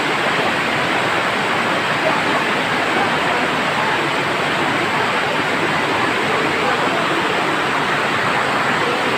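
Heavy rain falls at night in a dense, unbroken hiss, loud and steady from start to finish, with no voices over it.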